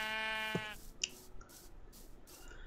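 Sheep bleat in the game Minecraft, one clear close bleat followed by faint clicks and soft game ambience.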